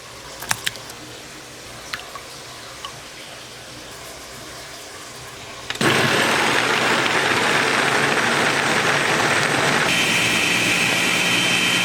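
A blender whirs loudly as it blends almonds with water, kicking in suddenly after several seconds of quiet room noise with a few clicks, then running steadily and shifting pitch slightly near the end.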